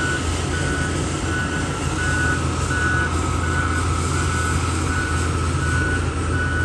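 A compactor roller working on a dam crest gives out a rapid, evenly spaced series of loud reversing beeps over a constant heavy diesel engine drone, close by with no voices.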